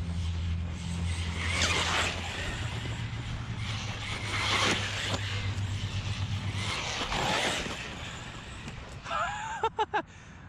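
An Arrma Big Rock 4S RC truck runs on an outdoor trail with a steady whirring drive hum and gravelly wheel noise, swelling and fading as it passes, ending with a few sharp clicks.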